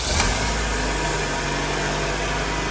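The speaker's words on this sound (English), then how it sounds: "Let's let it idle for a second." Honda Civic EG with a swapped-in GSR engine idling, a loud, steady close-up drone with constant vibration and no one speaking.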